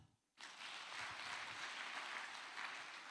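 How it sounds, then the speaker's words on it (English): A conference audience claps for themselves during a session, with broadband clapping that starts abruptly after a brief silence and stays steady and fairly distant for about three seconds. "Clap for yourself."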